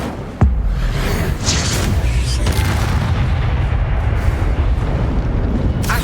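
In the Hogwarts Legacy video game, an Incendio fire spell goes off with a sudden deep boom, then a sustained roaring, rumbling blaze that stays loud, with further whooshing bursts layered over it.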